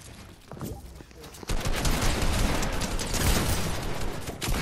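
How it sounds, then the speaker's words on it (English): Rapid automatic gunfire rattles continuously in a Fortnite fight, dense and loud bursts with a few sharper cracks, under occasional voice chatter. "He's still shooting me."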